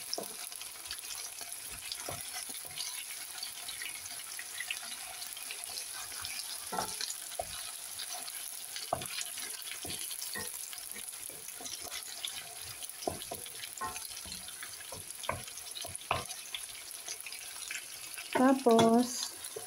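Chicken frying in a pan gives a soft, steady sizzle through a long stretch, with scattered clinks and stirring scrapes and a brief burst of water near the end; someone speaks quietly at times.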